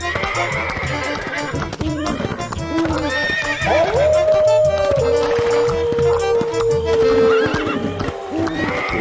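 Horses neigh loudly and their hooves clip-clop steadily along a road, with one long whinny rising out of the continuous hoofbeats while a voice talks over them.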